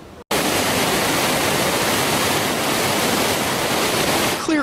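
Clear Creek rushing through Golden, swollen by heavy rain and snowmelt, makes a loud, steady roar of fast-flowing water that fills the whole stretch after a brief silent start, with no voices.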